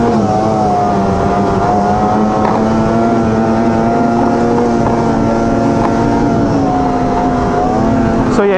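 An Arctic Cat Riot snowmobile engine idles steadily with a loud, close, even droning hum, mixed with constant wind buffeting on the microphone.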